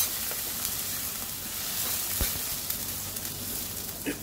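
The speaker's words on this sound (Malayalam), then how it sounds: "നമ്മളെടുത്ത് വെച്ചിട്ടുള്ള ഇത് രണ്ടാം പാലാണ് ഒഴിച്ചു കൊടുക്കുന്നത്" Second coconut milk poured into a simmering Kerala-style fish stew, giving a steady soft sizzle and bubbling hiss with faint stirring clinks, close up and continuous, with no talk.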